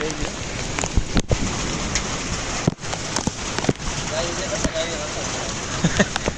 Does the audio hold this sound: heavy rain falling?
yes